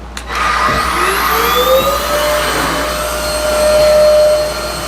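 A Vacfore cordless stick vacuum cleaner runs with its floor head popped off for direct suction, a loud, close, steady motor whine and airflow rush that starts abruptly and holds with slight pitch drifts, with no voices.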